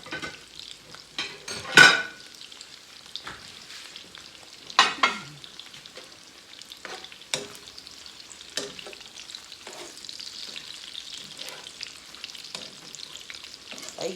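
Smoked sausage frying in oil in a pan, a steady soft sizzle throughout with occasional clinks and scrapes from stirring, close up and with no talking.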